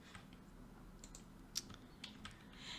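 Keys clatter in short, uneven bursts as a prompt is typed on a computer keyboard, fairly quiet and close with no voices.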